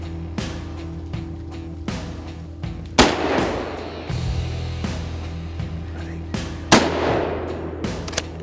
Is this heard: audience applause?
no